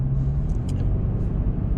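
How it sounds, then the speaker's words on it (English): Pickup truck driving in 4-wheel drive up a slick canyon road, a steady low engine rumble and road noise throughout with faint higher rattles, no talking. "I'm putting my truck in 4-wheel drive while I'm driving up the canyons"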